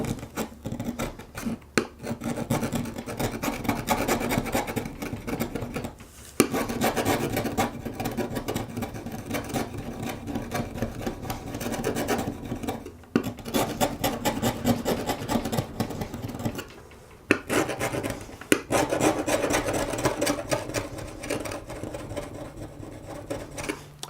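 Steady scraping and rasping as a surface is scratched to distress a pinball backglass mirror, continuous and close with a few short pauses, no talking.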